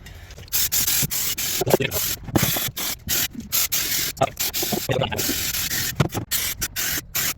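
Repeated bursts of an aerosol spray of rust treatment onto the body panels of a rusty Nissan S13 Silvia's rear quarter. Short hissing blasts come close and loud, separated by brief pauses.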